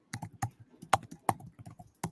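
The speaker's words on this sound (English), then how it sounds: "I'm typing it in to you in our chat here" Fast, light typing on a computer keyboard, a steady run of close, crisp key clicks with uneven rhythm in a quiet room.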